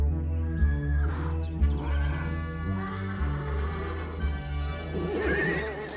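Horse neighing and whinnying loudly up close, with clip-clop hoofbeats and snorts underneath, in a 1989 German film scene.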